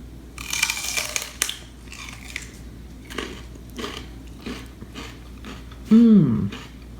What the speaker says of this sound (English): I really want you to just listen to the crunch.